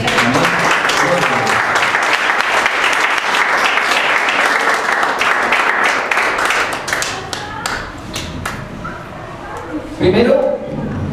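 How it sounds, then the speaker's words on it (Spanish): Congregation in a church service applauding, a loud, sustained wash of clapping for about seven seconds that thins into scattered claps, with voices rising near the end. "Denle un aplauso"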